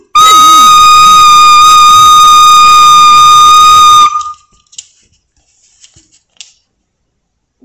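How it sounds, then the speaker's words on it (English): Steam engine whistle from a Thomas and Friends TrackMaster episode: one loud, steady, multi-tone blast lasting about four seconds, then cutting off into near silence with a few faint clicks. "So you don't like my whistle?"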